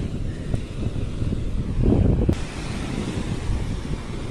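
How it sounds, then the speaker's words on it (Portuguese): Ocean surf rolls steadily at Unamar beach under a constant rush of wind buffeting the microphone, with one slightly stronger surge midway. "Aqui é a Praia de Unamar."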